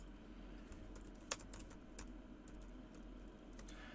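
Computer keyboard typing in a quiet room during a live Q&A show: a steady run of soft, faint key clicks with one sharper tap, and no voices.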